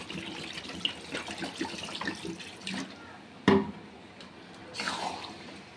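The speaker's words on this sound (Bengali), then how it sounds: "এবার আমি সামান্য একটু জল দিয়ে দেবো।" A little water goes into a pan of half-cooked chicken curry, a soft trickle and splash with a brief sharper clink midway, quiet and close in a home kitchen.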